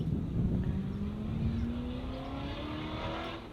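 A Chevrolet Corvette C7 Z06 engine drones steadily outdoors, its tone slowly climbing in pitch as the car goes by, at a moderate distance with no talking.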